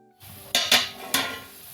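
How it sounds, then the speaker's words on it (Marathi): A metal lid set down on a pot of simmering Konkani fish curry, giving three sharp clatters within about a second, close and fairly loud, over a faint background hiss. "ह्याच्यावर मी झाकण ठेवते."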